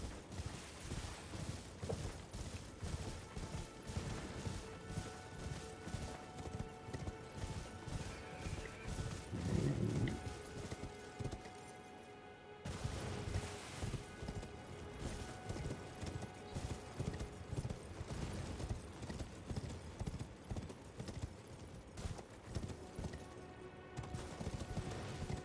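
A horse gallops in Elden Ring with rapid, rhythmic hoofbeats that run almost without a break for about 25 seconds, with a neigh partway through, a brief pause, and faint game sounds around it.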